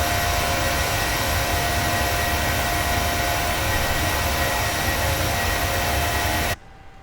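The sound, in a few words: Boeing 737-800 jet engines climbing out, PMDG flight simulator game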